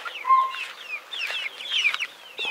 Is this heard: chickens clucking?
yes